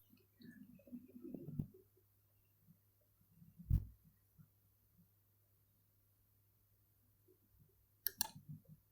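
A computer mouse clicks while drawing in AutoCAD, sharp isolated clicks at well-spaced moments, one near the middle and a quick double click near the end, over a quiet steady hum.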